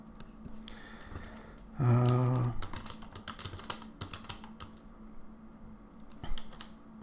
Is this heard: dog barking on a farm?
no